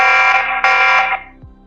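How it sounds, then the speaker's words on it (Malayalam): A loud electronic alarm from a TP-Link VIGI C350 security camera blares in a continuous harsh tone, briefly restarts, then cuts off and winds down to silence. "നമുക്കിങ്ങനെ അലാം അടിക്കാനുള്ള ഓപ്ഷൻ ഇതിനകത്തുണ്ട്"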